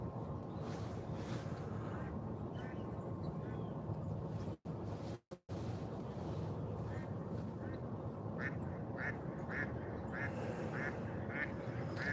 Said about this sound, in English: here comes one of them big old water birds coming in, but it's going to land over there in that swampy area